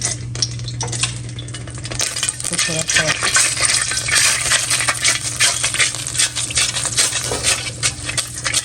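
Steady sizzling of garlic paste frying in a pan, with occasional stirring clinks, while a person talks briefly over it.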